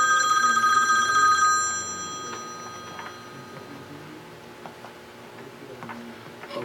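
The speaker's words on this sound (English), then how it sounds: "The phone is ringing when I get a message instead of bing." A telephone rings for an incoming message, a bright repeated electronic ring for the first couple of seconds that fades out, followed by faint ticking and soft background noise.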